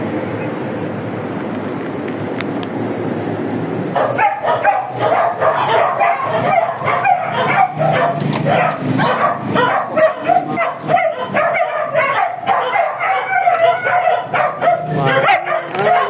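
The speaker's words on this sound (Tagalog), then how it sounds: "Maingay na naman ang mga aso pag dumaan, dumating tayo." Several dogs bark and yip repeatedly at close range, a continuous clamor starting a few seconds in over a low rumbling background.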